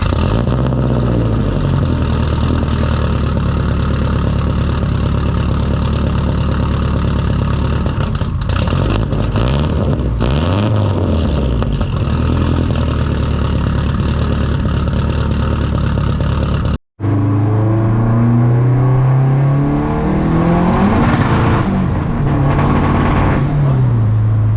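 A modified Volvo car engine revs hard and accelerates, a loud sustained roar rising and falling in pitch with gear changes, recorded close up from inside the car, continuing after a brief cut.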